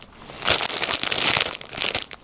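Large 70-liter plastic trash bags crinkle and rustle continuously up close, a loud, busy crackling with no voices.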